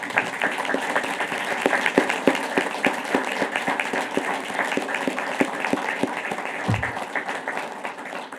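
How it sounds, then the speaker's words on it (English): A standing audience at a San Angelo city council meeting applauds Vietnam veterans, with sustained, even clapping from many people in a large room at moderate distance. "please to stand and give a round of applause for all the Vietnam veterans that serve in our community"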